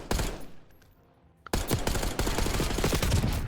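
Gunfire in Black Ops 6: a few sharp shots, then a short quiet gap broken by a click, then a sustained dense volley of loud rapid shots.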